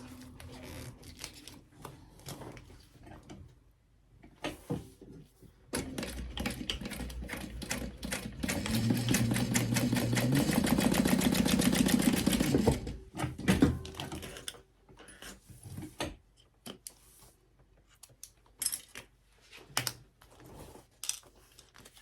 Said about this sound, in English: I'll go ahead and start sewing by turning on the machine. And I'm gonna sew down the center of this.